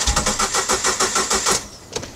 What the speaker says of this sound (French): Un THP, s'il démarre une seconde et qu'il s'éteint